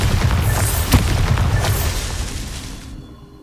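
A Bombarda spell blast in Hogwarts Legacy goes off as a loud, close boom with a sharp crack and a rumbling tail that fades out over about three seconds.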